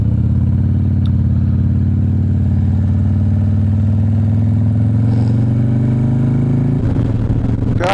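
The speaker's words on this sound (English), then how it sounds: "God, I love this bike." Motorcycle being ridden, a loud steady engine drone up close with its pitch slowly rising as the bike gains speed, plus wind rumble and a brief rattle toward the end.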